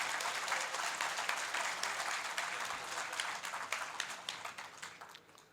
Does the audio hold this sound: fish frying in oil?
no